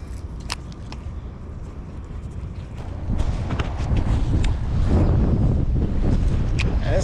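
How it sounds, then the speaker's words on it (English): Gusty wind buffeting a microphone on a fishing boat at sea, a rough, rumbling roar that grows stronger midway, with faint water and hull sounds and no clear talk. "This wind's getting gnarly now, man."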